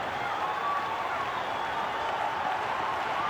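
A cricket crowd at Kingsmead cheers and applauds in a steady, distant roar of clapping and shouting that fills the whole stretch evenly.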